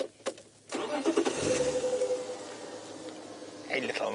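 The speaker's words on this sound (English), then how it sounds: "I'm just going to move the vehicle slightly." A safari game-drive vehicle's engine cranks and starts, then runs steadily as the vehicle moves off in the bush, close and fairly loud, with brief voices at the start.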